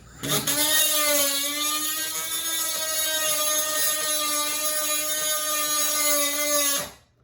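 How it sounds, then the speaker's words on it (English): A power tool grinds down a rivet inside a boat's rub rail channel on a Honda Aquatrax, a loud steady high whine running several seconds before spinning down and stopping. "so kind of grind it down so that the insert will slide in a little bit better"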